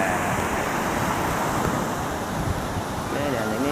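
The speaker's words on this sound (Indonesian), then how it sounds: "kayak gini lah pantainya ya, ombaknya, geloranya juga ada ya" Surf rolls in at Pasir Putih beach in Tuban, East Java, a steady broadband wash of waves mixed with wind buffeting the microphone, with faint voices in the background.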